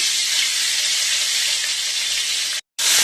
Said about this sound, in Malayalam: ഇതിലേക്ക് എണ്ണ ഒഴിച്ചു കൊടുക്കുന്നുണ്ട്. ഈ വെള്ളുള്ളി ഇഞ്ചി പേസ്റ്റ് ചേർത്തെടുക്കുന്നുണ്ട്.